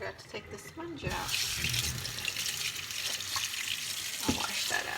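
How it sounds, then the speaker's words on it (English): Cold tap water runs steadily into a kitchen sink while chicken feet are rinsed, a continuous close rushing stream with brief handling clatter at the start and a splash or two. "now what I'm gonna do is rinse it cold water. Wash them out really well."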